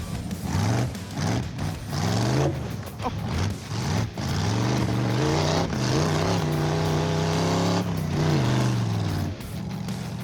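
A race car runs a lap on a track, its engine droning and shifting pitch through acceleration and lifts, loud and close throughout, with a spectator's voice briefly audible.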